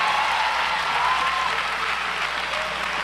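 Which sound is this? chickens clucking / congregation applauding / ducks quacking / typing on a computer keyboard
congregation applauding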